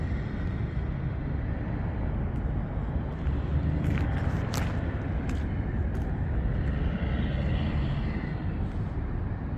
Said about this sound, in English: There you go, you got a Huey.